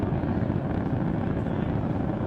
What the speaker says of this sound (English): you are watching a live view of the Falcon 9 rocket as it ascends through the atmosphere